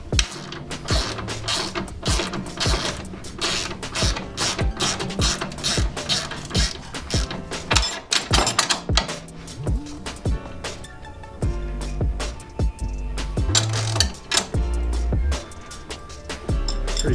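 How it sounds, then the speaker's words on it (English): A 3mm Allen key tightens a screw on a Dodge Neon SRT4 fender brace while a 17mm wrench holds the sleeve, producing close, busy metallic clicks, scrapes and ratcheting taps in irregular bursts, with some low rumbling underneath. "Go ahead and tighten the Allen screw."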